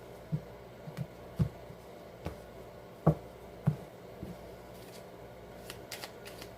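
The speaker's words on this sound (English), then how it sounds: "Seven of Swords just flipped over while I was shuffling" Soft, sparse tapping and light tarot card handling: a handful of muffled thumps and slides spread out over a quiet, faintly humming background.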